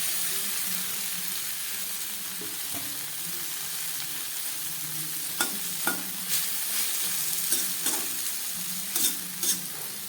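Chopped taro stolons go into a pan of frying garlic and onion, with a busy crackling sizzle and a spoon scraping and tossing them in quick, uneven strokes.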